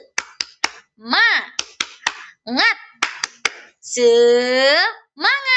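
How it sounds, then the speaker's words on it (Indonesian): Third-grade pupils in a primary-school class clap their hands in quick sharp bursts, with chanted children's voices between the claps. "Kita tepuk-tepuk biar semangat ya"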